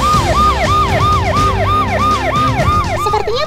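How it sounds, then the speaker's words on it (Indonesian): An ambulance siren wails in a fast repeating up-and-down cycle, loud and close, about a dozen sweeps over traffic rumble in a street scene. "Ada mobil ambulans mau lewat nih!"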